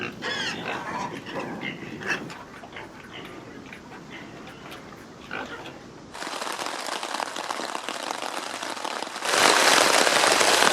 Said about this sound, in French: comme vous pouvez l'entendre, c'est des trombes d'eau